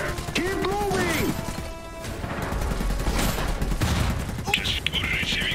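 Battle noise from the strategy game Iron Harvest: rapid bursts of gunfire and crashing impacts crowd the mix alongside mechanical clanks, loud and busy, with game voices speaking over the fighting.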